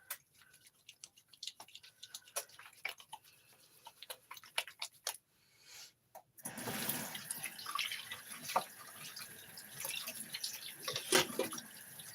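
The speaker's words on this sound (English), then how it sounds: "So let me wash my hands real quick." Hands are washed at a kitchen sink under a running tap: a soft stream of water gushes and splashes steadily for several seconds after sparse drips and small clicks, with no talk.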